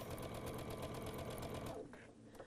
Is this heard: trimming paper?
no